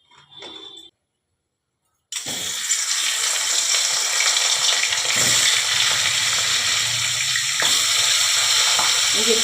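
Rohu fish heads, rubbed with turmeric and salt, frying in hot oil after a short quiet gap, giving a loud, steady, dense sizzle that carries on to the end.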